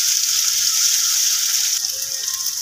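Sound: tomatoes frying in a pan

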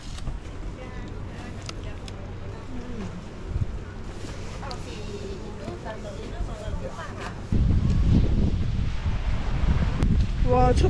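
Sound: wind blowing outdoors in snowy cold weather

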